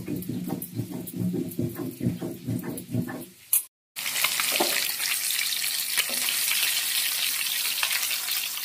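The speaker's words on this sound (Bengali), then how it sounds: "হালকা লাল লাল করে মাছটা ভাজা হয়ে গেছে।" Fish frying in oil for a light Bengali fish curry: a busy, crackling sizzle that cuts out briefly, then comes back louder as a close, dense, continuous frying hiss.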